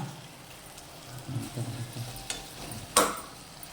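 Salted white rice stirred in a pan, soft scraping and shuffling strokes with a faint sizzle, fairly quiet, ending in one sharp clack of the spoon against the pan.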